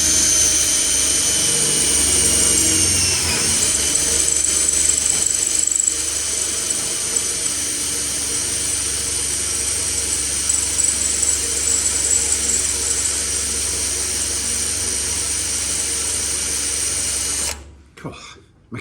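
A sharp 6.5mm drill bit bores steadily for about seventeen seconds, a continuous whining grind held at an even level close by, then it cuts off abruptly.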